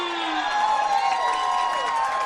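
Home crowd at a high school football game between Virginia High and John Battle, a steady broad roar of voices and cheering filling the stadium at a fairly constant level, with a faint voice over it.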